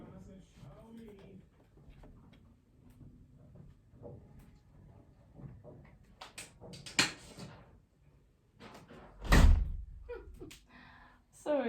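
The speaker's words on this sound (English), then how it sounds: "I'm just going to have to shut the door because I've got the builders outside." A door is shut with a single loud thunk after some shuffling handling noises and a few fainter knocks, all heard indoors with a person talking nearby.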